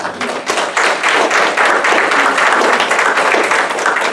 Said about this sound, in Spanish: Entonces démosle un aplauso.